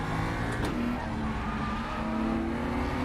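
A race car in RaceRoom Racing Experience brakes hard into a chicane, its engine note steady and close with a brief downshift blip early on, continuous motor drone throughout.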